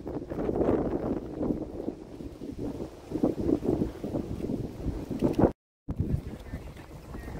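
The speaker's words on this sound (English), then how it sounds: "We got some serious wind." Strong wind buffets the microphone in loud, uneven gusts, roaring and flapping, with a brief dropout near the end, beside a lake in the Granby area in autumn.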